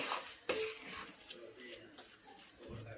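A spoon stirs coconut laddu mixture in a pan, making faint, close scraping and a few light metallic clinks scattered over a quiet background.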